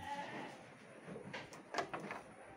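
A sheep in an Indonesian breeding pen gives a couple of short, faint bleats over steady background noise and low hiss, heard from a moderate distance.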